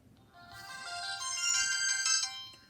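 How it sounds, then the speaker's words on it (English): Startup tune of a Samsung Gravity TXT T-Mobile phone from a MIDI chip, a short bright electronic melody of rising chimed notes that swells and then cuts off, played alone against faint room noise. "Has the same startup sound as like the Samsung T809, etc."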